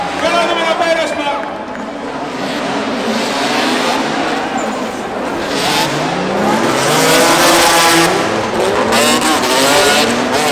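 Drift race car at a stadium drift event roaring past with revving engine and squealing tires, loud and continuous, while an announcer talks excitedly over it.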